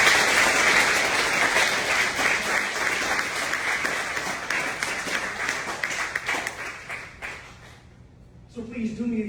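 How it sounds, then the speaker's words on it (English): A graduation audience at the Carroll Center claps in a dense, sustained round of applause that gradually thins and fades, and a voice begins speaking just at the end. "And I think that deserves a round of applause"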